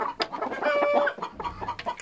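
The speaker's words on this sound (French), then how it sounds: "Voilà mes poules pondeuses." Laying hens cluck in short, repeated calls close to the microphone, with a few rising squawks among the soft chatter of the flock.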